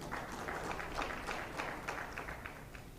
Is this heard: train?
no